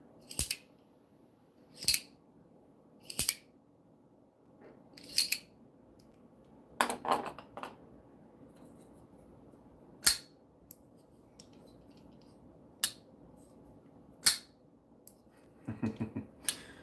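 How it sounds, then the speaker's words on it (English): Knife being handled in close-up: sharp metallic clicks and snaps at irregular intervals over a quiet hiss, with a short rattling scrape near the end. "Knife ASMR? Sure."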